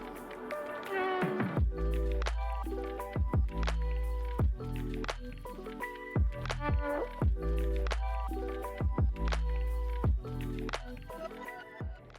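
Heavy cream folded into dark chocolate mousse with a utensil, producing repeated wet squishing and soft smacking strokes in a steady rhythm, close and fairly quiet with no talking.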